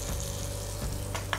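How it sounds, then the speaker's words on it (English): Food fries in a pan, giving a steady, close sizzle with a couple of brief clinks or stirring sounds near the end and no talking. "We kept frying it till it gets nice and brown all around"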